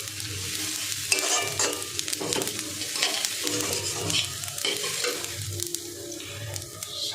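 A spoon stirs cashews and raisins through sweet zarda pulao rice in a hot pan. Soft scraping and shuffling strokes come and go over a low, steady sizzle, with no talking.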